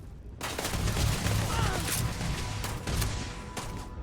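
Shotgun blasts from a two-shot shotgun in the video game Starfield, a loud burst of firing with sharp reports through the clip, mixed with game noise and a faint voice.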